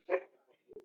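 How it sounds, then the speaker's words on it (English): A single short dog bark sounds at moderate distance, fairly faint, followed by a quieter brief yelp-like noise. "my dogs barking, man."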